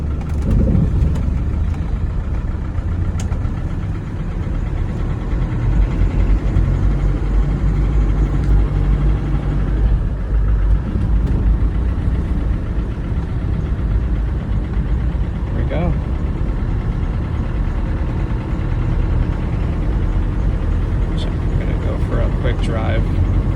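A 1997 Land Rover Defender pickup pulls away, its engine holding a steady, close, rumbling drone for the whole stretch, with a few faint clicks and knocks over the continuous mechanical noise.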